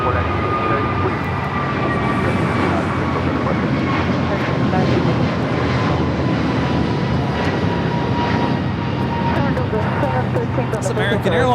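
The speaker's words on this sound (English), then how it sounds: "It's American Airlines Flight 59 taking off to Kailua Kona on the A321neo" An American Airlines A321neo takes off at LAX, its engines roaring in a loud, continuous, steady rumble throughout, with a voice talking over the noise.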